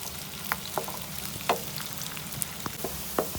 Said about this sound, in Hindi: और प्याज को फ्राई करते हैं।